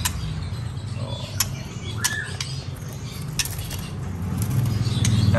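Small cage birds chirp and tweet in a bird shop, sharp short calls scattered over a steady low hum and clatter, fairly close, with no talk.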